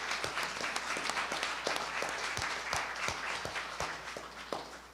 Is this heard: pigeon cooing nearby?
no